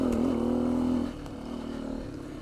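A Beta 125 RR-S dirt bike engine held at a steady droning rev on the throttle, then dropping back to a lower, rougher running note on a trail ride.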